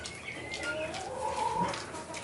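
Chickens give soft clucks and short calls at night in winter at feeding time, a few close, brief vocalisations over quiet background noise.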